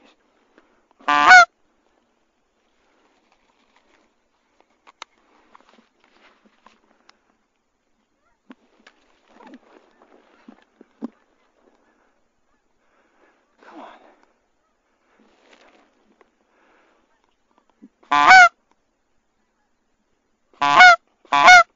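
Several loud geese honk in short bursts on a foggy day, first once, then again later in a closely spaced cluster, with a brief spoken remark and quiet rustling between.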